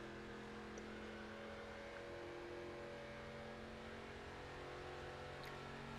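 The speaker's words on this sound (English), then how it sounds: "Now he's picking up speed." Race car engine in the iRacing sim at Daytona, a steady droning hum with layered harmonics that holds evenly and faintly builds as the car picks up speed, with no talk.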